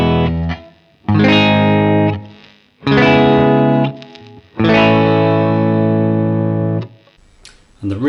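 Electric guitar strumming the four chords of a song, clean with some effects, in three sustained ringing bursts with short gaps, loud and alone with no talk.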